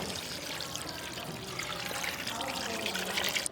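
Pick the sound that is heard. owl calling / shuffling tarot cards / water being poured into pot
water being poured into pot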